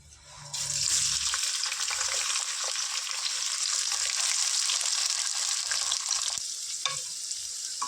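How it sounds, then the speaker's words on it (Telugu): Four sliced onions and about ten green chillies hit hot oil for a mutton curry, starting a loud, close, continuous sizzle that holds steady with occasional stirring. "ఆనియన్స్ని ఒక టూ మినిట్స్ ఫ్రై చేసుకున్నాం ఫ్రెండ్స్"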